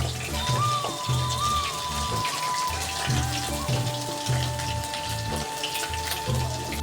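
Chicken pakoras fry in hot oil with a dense, steady crackle like rain on a surface. Tonal background music sits faintly over the sizzle throughout.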